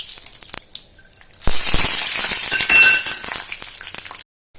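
Peanuts dropped into hot oil for a Telugu-style okra fry, a sudden burst of loud crackling sizzle with clinks against the pan, settling into steady frying before cutting off.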